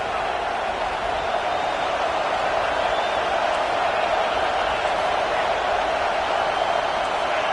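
Steady stadium crowd roar in the College Football 25 video game, a continuous broadband wash of cheering behind a defensive third down, loud and unbroken throughout.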